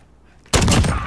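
A single loud Dragunov sniper rifle shot in the Road to Damascus video game, cracking in sharply after a quiet lead-in and trailing off with a sustained echoing tail.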